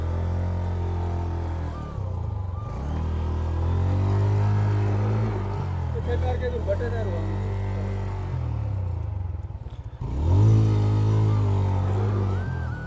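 A loaded scooter stuck on a rough mountain road in a Kashmir village near the Line of Control labours with its engine revving up and down in repeated surges. Voices talk over the close, droning motor.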